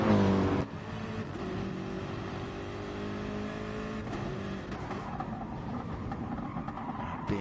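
Gr3 race cars including a BMW and a Lexus lapping Spa-Francorchamps in a racing video game, a steady engine drone running throughout with a brief louder rev at the start, no talk.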